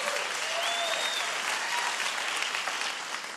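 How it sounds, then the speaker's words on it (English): Steady audience applause at a live book talk fills the whole stretch, a dense wash of many hands clapping at even strength with faint whistles or cheers threaded through and no speech over it. "I think that's worth a round of applause"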